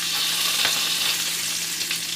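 Bacon frying in a pan, a loud, close, steady crackling sizzle with small pops, heard alone without talk.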